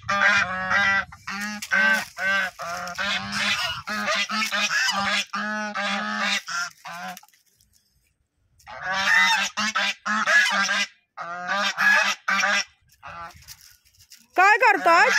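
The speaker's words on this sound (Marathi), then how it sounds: "ते बदक आहेत, याला बघून भुकतायत भुकतायत म्हणते, ओरडतात" Small ducks quack and honk loudly in repeated bursts at a dog nearby, the calls coming in dense runs with brief pauses, and a person talks at moments under and between them.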